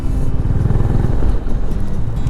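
A Honda CB350 H'Ness motorcycle cruises along National Highway 44 between Hyderabad and Nagpur, its steady low engine thrum loud and continuous with wind rush, heard from the rider's position.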